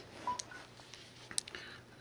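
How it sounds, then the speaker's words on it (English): Telephone dialing tones from an auto dialer, a quick scatter of faint beeps over a quiet line. "Auto dialer."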